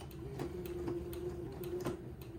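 A sewing machine runs a slow straight stitch across a smocked bonnet, giving a steady low motor hum with regular light ticking of the needle, close and moderately quiet.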